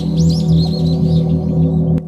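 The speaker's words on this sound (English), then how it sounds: "From the horizon, flocks of birds appeared." A flock of birds chirps and tweets in quick, overlapping calls, layered over a loud, steady low drone that persists throughout the short sound effect.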